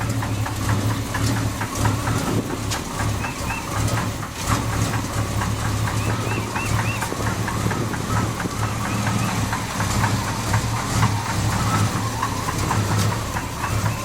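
An old junk truck engine idles steadily with a low, rough chugging rumble and faint rattling, running continuously without any talk.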